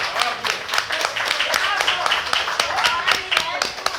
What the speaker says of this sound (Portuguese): uma salva de palmas para Fernando Lucena.